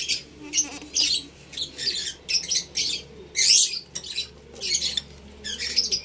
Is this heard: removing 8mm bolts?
no